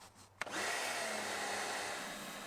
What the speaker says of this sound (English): it seems to work pretty well with the medium-sized pressure washer that I'm using